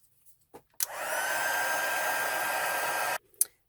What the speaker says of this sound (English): All right, let me heat emboss this.